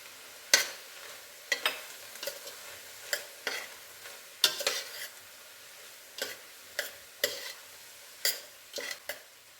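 Sweet corn being stirred with chaat masala, giving a string of crisp, separate scraping clicks at an uneven pace, close and fairly quiet, with a faint sizzle between strokes and no talking.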